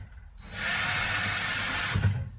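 A power drill drives a screw into a wooden drawer in a workshop, one steady whine lasting about a second and a half that ends with a short thump.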